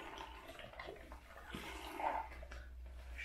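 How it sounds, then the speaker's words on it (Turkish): Milk being poured into banana cake batter in a bowl, a soft, close, continuous liquid gurgle and splash that swells briefly before settling, with no talking. "İyice karıştırdıktan sonra sütümü döküyorum."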